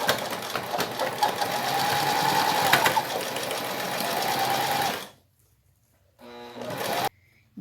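A domestic sewing machine stitches a plastic bag in a fast, steady mechanical whir for about five seconds, then stops. A short second burst of stitching follows after a pause.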